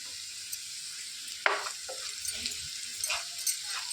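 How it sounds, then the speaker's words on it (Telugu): Onions fry with salt in a pan for egg pepper roast, a soft steady sizzle with a few scattered scrapes and clicks of stirring, close but quiet, with no voices. "మంచి కలర్ వచ్చే వరకు రోస్ట్ లాగా చేసేసుకోవాలండి ఉల్లిపాయలు అనేవి"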